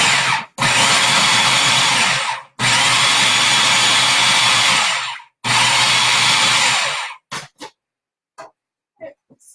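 A food processor roars through turkey meat for a salad in three loud, sustained bursts separated by short pauses, followed by several quick pulses near the end.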